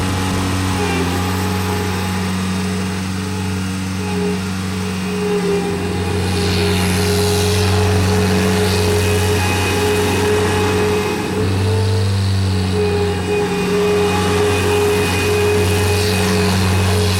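A Mudd-Ox amphibious vehicle runs with its engine and hydraulic drive motors, one for each side, giving a loud, continuous hum and drone that swells slightly at moments, close and steady.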